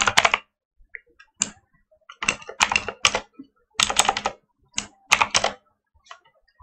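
Quick bursts of keystrokes on a computer keyboard while code is typed into a Roblox Studio script, with uneven clusters of taps separated by short pauses, close and clear with no talking.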